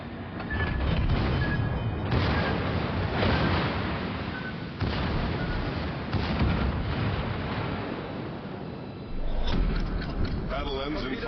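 Sustained naval secondary-battery gunfire in the warship game Flotilla, a dense rolling barrage of booms and cracks with no letup, loud and close, with a voice talking over parts of it.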